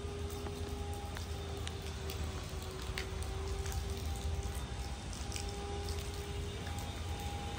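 Steady rain patters on a rooftop terrace, a continuous soft hiss at moderate level with faint tonal hum and a few light drips, no voices.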